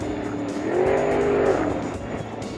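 A piston-engined race boat roars past on the Rakaia river during a Canterbury rivers race, its engine note rising and falling loudly as it goes by.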